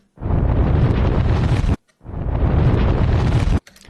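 Two reverse explosion sound effects swell one after another, each a loud rumbling roar that builds and then cuts off abruptly, separated by a brief silence.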